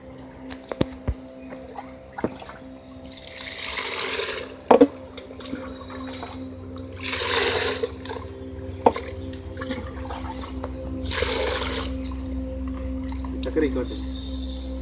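A liquid solution made with country sugar is poured into a container while making a secondary waste decomposer, heard as three splashy pouring bursts over a low background hum with scattered clicks.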